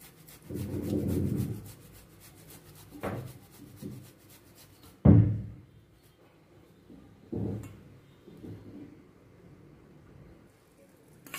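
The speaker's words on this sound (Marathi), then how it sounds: "ते आपण बारीक खिसून घेऊया खिसणीच्या सहाय्याने" Boiled, peeled potatoes are grated on a hand grater in a home kitchen, giving soft, close rubbing strokes in irregular short bursts separated by quiet gaps.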